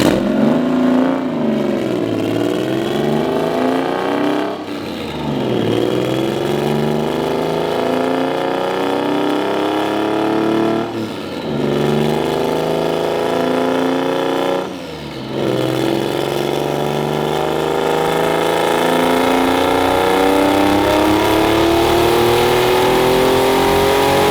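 A turbocharged EG33 flat-six in a Subaru WRX STI on a dyno pulls hard through repeated full-throttle sweeps, the loud rising engine note climbing, dropping back and climbing again several times.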